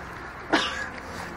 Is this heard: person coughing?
yes